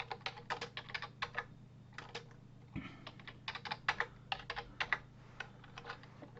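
Rapid bursts of typing on a computer keyboard while compiling code, close and clear with a steady low hum beneath, keystrokes coming in quick irregular runs with short pauses.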